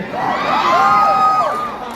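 A live audience at a motivational speaking event in DC erupts in loud, energetic cheering, a dense crowd roar topped by whoops and high shouts that swells and then tapers off over two seconds.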